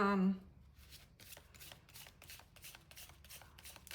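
Tarot cards riffled and shuffled in a rapid rhythmic flurry of crisp flutters close by, right after a brief spoken voice at the start.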